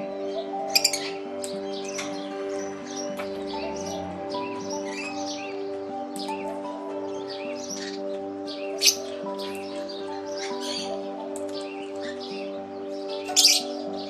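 Bright Australian king parrot chirps and short whistles ring out intermittently over a steady humming background, with a few sharper calls scattered across the stretch.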